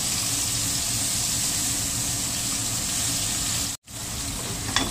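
Silver cod fillets and potato pieces pan-fry in oil with a steady, close, hissing sizzle. The sound cuts out for a moment near the end, then resumes.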